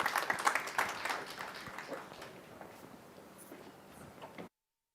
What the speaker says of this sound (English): give him a warm round of applause as he stands up